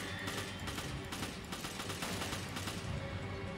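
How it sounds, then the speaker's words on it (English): Dense volleys of gunfire and explosions from the Resident Evil 5 video game during a speed run, a continuous loud barrage of overlapping shots and blasts with no pauses. "It's all these explosions, man"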